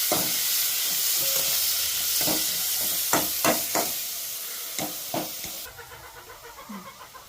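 Chopped tomatoes and fried onions sizzle steadily in a pan for a village-style green pea gravy, with a series of sharp stirring scrapes and knocks over the hiss before it thins out near the end.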